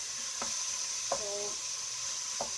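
Beef browning in a pan for beef chili, with a steady sizzle and a few distinct scrapes of a spoon stirring the meat at close range; no one speaks.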